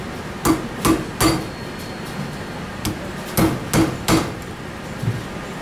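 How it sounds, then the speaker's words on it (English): Speedy rivets are set with a hammer against a rivet bar while fitting a club foot brace: sharp hammer strikes land in two quick bursts of three, ringing a little, with a few lighter taps between and no talking. "we go over to the rivet bar and he's going to set the rivets"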